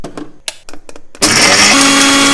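A kitchen mixer grinder blending pepper, ginger and garlic with water, starting after a few short knocks and clicks, then a loud continuous whirring motor close up until the end.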